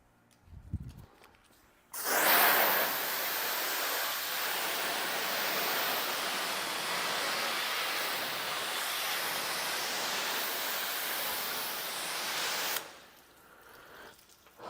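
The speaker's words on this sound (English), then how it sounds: "Now let's rinse it off." Steady loud spray of rinse water washes coating remover off a vehicle's paint, starting abruptly and running without a break for about eleven seconds before cutting off.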